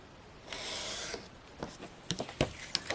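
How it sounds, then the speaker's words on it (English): Craft knife drawn through two layers of card, a short scraping stroke followed by several small close ticks and taps, quiet and without talk. "I'm going to do it with my knife. And we're going to cut along there."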